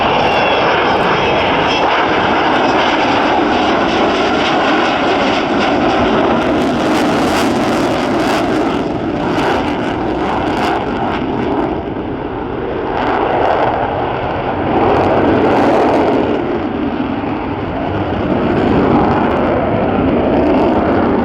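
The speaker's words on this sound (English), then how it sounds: "wait for the sound as those Bristol Olympus engines spool up" The Bristol Olympus jet engines of an Avro Vulcan bomber roar and build in power as it passes at the RAF Cosford Airshow 2013, the rumble swelling and surging in waves.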